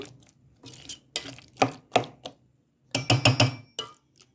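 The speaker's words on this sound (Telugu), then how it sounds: "దోసకాయ ముక్కలు పట్టేలాగా అంతా మిక్స్ చేసుకుందాం." Cucumber pieces being mixed into a spiced pickle paste in a bowl, with several short, scraping, clinking bursts separated by brief pauses and no voices.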